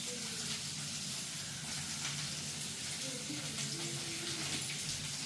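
Onion, green chili, curry leaves and fenugreek sizzle steadily in a hot pan as they are tempered. The frying hiss is even and continuous, with faint talk in the background.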